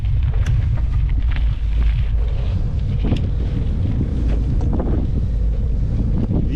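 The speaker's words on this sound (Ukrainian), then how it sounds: "вітер мене прислідує." Strong wind buffets the microphone in a steady, loud roar, with gusty rumbling throughout and no voices.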